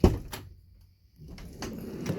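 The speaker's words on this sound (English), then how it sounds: "Quit slamming my door, Joshua" Door of a 2019 Mercedes-Benz Sprinter gas van converted into a camper slamming shut, a sharp loud thud at the start followed by quieter knocks and rattles inside the van.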